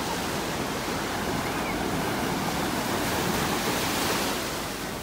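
Ocean waves wash onto the beach at North Naples, Florida on an overcast morning, a loud continuous broadband surf roar with wind mixed in, steady throughout, with no talk.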